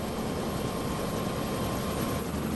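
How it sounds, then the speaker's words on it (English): Helicopter in the LEGO City Undercover video game on PS5, a steady, loud rotor-and-engine drone that holds evenly throughout without a break. "So it looks like I know how to fly a helicopter then."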